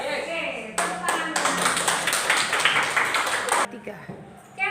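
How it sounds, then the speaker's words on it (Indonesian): A primary school class in a maths lesson claps together in a burst of loud, close applause lasting a few seconds, with a voice briefly heard before and after. "Oke, tepuk tangan."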